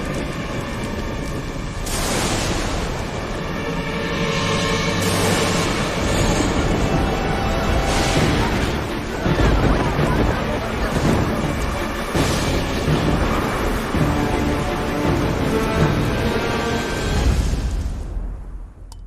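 An animated film storm brings a continuous loud roar of wind and rain with repeated booming thunder crashes, rising and falling across the stretch and fading out at the end, with no talking.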